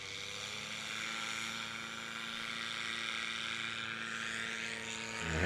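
Propeller-driven STOL light aircraft landing at a STOL competition, a steady droning engine hum heard from a distance that holds fairly even and swells slightly near the end, with no talk over it.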